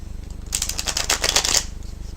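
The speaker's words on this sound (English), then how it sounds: "while I shuffle the cards" A quick riffle of playing cards being shuffled, a rapid flutter of snapping cards lasting about a second over a low background hum.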